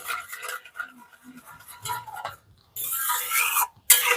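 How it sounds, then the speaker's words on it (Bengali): A spoon stirs powdered milk into warm water for cream kalojam sweets, giving repeated scraping and light clinks against the vessel, with a louder, brisker stretch of rapid stirring near the end. "ভালো করে গুলে নিচ্ছি জলের সাথে"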